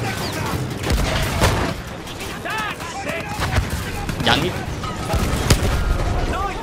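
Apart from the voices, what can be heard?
grenade explosion in video game Battlefield 1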